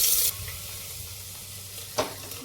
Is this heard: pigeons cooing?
no